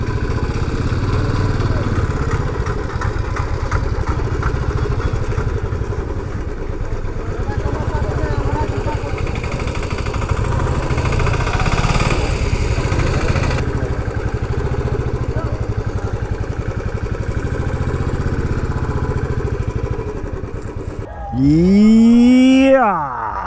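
A motorcycle engine runs steadily at a hill checkpoint near Ghatshila, giving a continuous close rumbling drone. Near the end there is a brief rising tonal sound, then a short louder burst.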